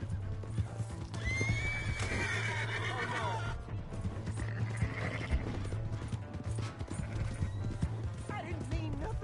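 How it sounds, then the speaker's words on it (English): A horse whinnies with a long rising-falling neigh, then hooves clip-clop amid a steady low hum and a busy outdoor scene; voices talk over it, and a second shorter whinny comes near the end. "Hey, that's my horse!"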